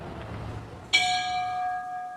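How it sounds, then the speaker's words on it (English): A single strike of a memorial bell at the Mexican consulate in Orlando, a sudden clear metallic clang that rings on with a long, slowly fading hum after quiet room noise. "this bell rang 49 times at the Mexican consulate in Orlando"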